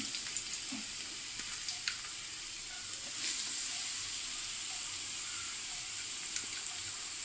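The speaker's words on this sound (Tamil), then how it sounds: "நல்லா காஞ்ச உடனே பொடியாக கட் பண்ண ஒரு 3 வெங்காயத்தை போட்டுக்கலாம்." Finely chopped onions, three of them, sizzle in three spoons of hot ghee in a pan, a soft, steady frying hiss with occasional faint crackles and stirring, close and fairly quiet.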